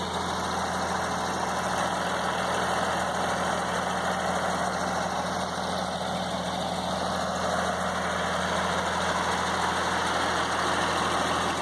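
The engine of a 1952 Ford 8N farm tractor runs at a constant, loud, droning idle, close up and unbroken throughout.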